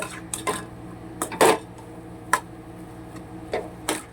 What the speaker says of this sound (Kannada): ಸೊ ಇದನ್ನು ಎಲ್ಲನೂ ನೀಟಾಗಿ ಮಿಕ್ಸ್ ಮಾಡ್ಕೊಳ್ಳೋಣ ಏನೆಲ್ಲ ನಾವು ಮಸಾಲ ಆ್ಯಡ್ ಮಾಡಿದ್ವಿ ಅಲ್ಲ ಸೊ ಆ ಮಸಾಲನ ಮಿಕ್ಸ್ ಮಾಡ್ಕೋಬೇಕು